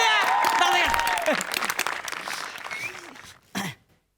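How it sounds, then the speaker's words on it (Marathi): An audience at a Marathi comedy stage show claps to welcome a speaker. A rapid patter of clapping runs under a voice and a cough, then fades before a final short burst. "जोरदार टाळ्यांनी त्यांचं स्वागत करायचं आहे जोरदार टाळ्या जाऊ द्या."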